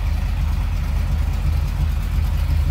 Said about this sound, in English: Nothing crazy, a little rumble coming out of that 350, but nothing over the top as far as cam or exhaust.